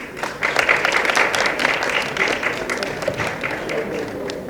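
An audience at a film press meet claps for an actress and singer, a moderate, uneven patter of many hands rising and falling, with some crowd noise blended in.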